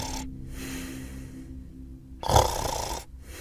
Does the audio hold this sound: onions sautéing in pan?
no